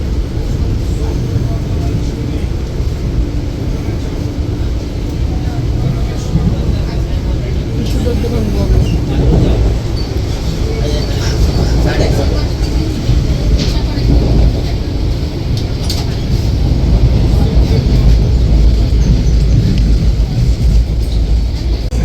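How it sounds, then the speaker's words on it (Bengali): Maa Tara Express running through Belgharia, heard from inside an AC chair car: a loud, continuous low rumble and rolling roar that holds steady throughout, with faint clatter on top. "আমাদের ট্রেন এবার বেলঘরিয়া ক্রস করছে।"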